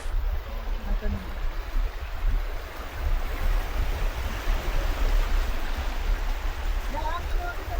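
Large waves break on the shore of Calaguas Island, a steady broadband roar of surf that stays loud and continuous throughout.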